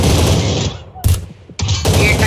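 Rapid bursts of assault rifle fire in a shooter video game, loud and close, broken by a short pause before the shooting starts up again. A voice can be heard faintly around the shots.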